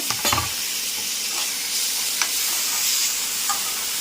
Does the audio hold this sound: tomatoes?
yes